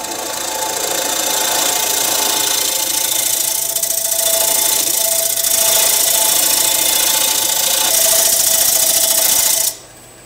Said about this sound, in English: Now I'm going to go to a bigger negative rake scraper.